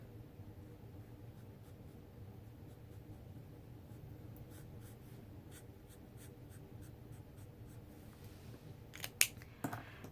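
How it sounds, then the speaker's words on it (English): Felt-tip alcohol markers stroking across stamped images on paper, a soft, steady scratchy writing sound close by, with a few faint taps and handling clicks near the end. "let's color our little images. I'm going to use Stampin' Blends."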